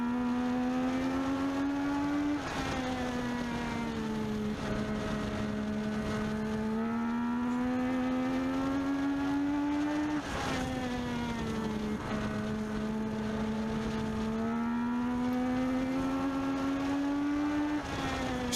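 Legends race car engine during group qualifying laps at Meridian Speedway, a loud, continuous close-up engine drone whose pitch rises steadily and drops back at each shift, cycling through several gear changes over the run, with no talking.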